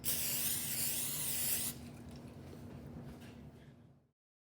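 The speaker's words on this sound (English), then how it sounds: "I'll spray this row and so on, just so that I don't have to unnecessarily grease the other muffin tins" A loud hissing spray of cooking grease into muffin tins bursts for over a second, followed by a softer lingering hiss that fades out into silence.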